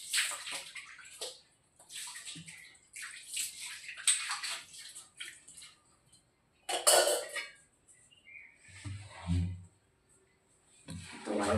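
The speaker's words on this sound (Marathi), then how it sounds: "वायपरने सगळं पाणी ढकलून घेते." A floor wiper pushes water across a wet kitchen floor in short, close swishing sweeps with pauses between strokes, plus a brief low thump near the end.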